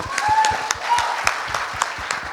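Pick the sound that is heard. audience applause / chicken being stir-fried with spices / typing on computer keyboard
audience applause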